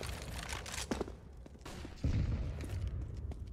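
Gunshots in Counter-Strike on the Mirage map during a pro match, a few sharp reports with one louder shot midway over a background of game noise, quiet and somewhat distant.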